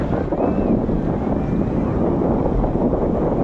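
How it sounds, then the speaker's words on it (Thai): Strong monsoon wind buffets a beach at Chao Samran in Phetchaburi, a steady loud roar battering the microphone for the whole stretch with no talking. "แต่ช่วงนี้อาจจะมี ลมมรสุมบ้างนะคะ"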